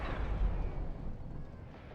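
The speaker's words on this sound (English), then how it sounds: "Those explosions are so loud." Deep, muffled booms from explosions in the video game Dark Souls, a low rumbling burst that fades over a couple of seconds at a fairly quiet level.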